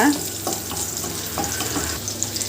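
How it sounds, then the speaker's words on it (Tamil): Onions frying in hot oil for a Chettinad fish curry, a steady close sizzle with light stirring scrapes throughout. "இப்போ வெங்காயத்தை வந்து வறுத்துக்கோங்க"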